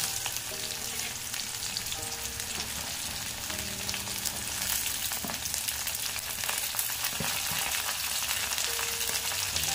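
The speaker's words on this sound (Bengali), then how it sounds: "ভালোভাবে মশলাটা একটু ভেজে নেব।" Vegetables with drumsticks, ginger and green chilli paste, and spices fry in a pan for a shukto, giving a steady, close hiss and crackle with occasional stirring scrapes throughout, no voices.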